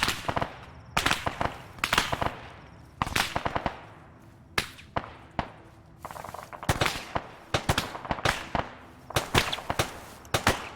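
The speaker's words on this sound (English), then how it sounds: "Got access to an LMG, might as well use it, right?" Light machine gun fire in Arma 3, loud sharp bursts of rapid shots repeating in clusters over several seconds with brief gaps between volleys, no voices.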